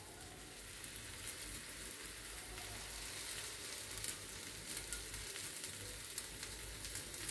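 Pineapple pieces fry in oil in a pan, giving a steady, close sizzle with soft crackling that holds evenly throughout with no talk.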